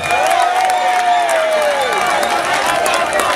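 A large outdoor crowd at a Wavel Ramkalawan campaign rally in Roche Copra applauds and cheers in a loud, continuous wash, with a high voice or whistle sliding over the noise.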